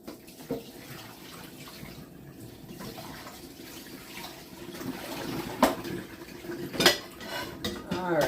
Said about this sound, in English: fill up with water